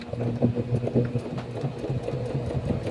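A domestic sewing machine running a zigzag stitch, with a steady rapid mechanical chatter and a low motor hum that hold evenly close-up throughout.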